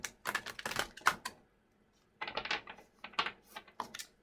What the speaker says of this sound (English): I'm gonna shuffle that.